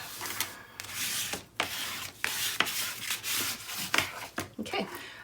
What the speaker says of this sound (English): I'm going to go ahead and give that a good burnish